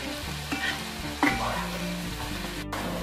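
Onion frying in a pan with salt until soft and translucent, a busy close sizzle with stirring scrapes and a couple of sharper clatters, steady and fairly loud.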